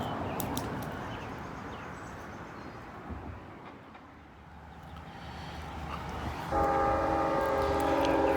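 Northbound CSX train, probably two locomotives, approaching from a distance with a low building rumble, then a loud sustained horn blast near the end, with birds faintly in the background.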